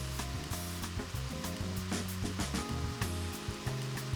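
Hard farro grains cooking hard in hot liquid over full heat, giving a steady, loud bubbling sizzle that runs throughout with faint clinks of a pan or spoon mixed in.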